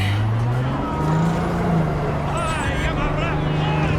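A car revs and speeds up while driving through the city in the Cyberpunk 2077 video game: a steady, close engine drone whose pitch gradually rises across the stretch, with a continuous wash of background sound.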